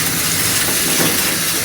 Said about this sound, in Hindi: बस इसको 1 मिनट के लिए फ्राई करेंगे इस मेवे को